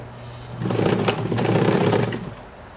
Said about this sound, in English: I'm going to set it to our maximum zigzag and see what kind of stitch we get.